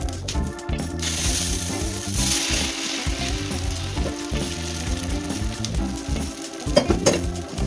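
Ghee roast dosa made with red rice sizzles and fries steadily on a hot pan, a continuous close crackle with occasional scraping and utensil clinks, and no talking.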